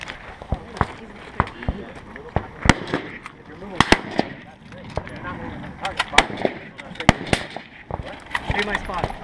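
Rifle shots at an outdoor precision rifle shooting competition, sharp cracks and booms at irregular intervals, some near and loud, others farther off, with people talking between shots.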